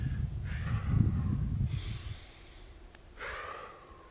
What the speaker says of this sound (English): Exhale, inhale, exhale, inhale.